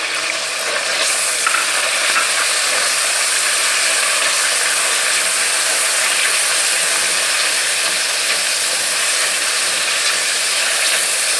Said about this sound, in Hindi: प्याज का मसाला भी ग्राइंड करेंगे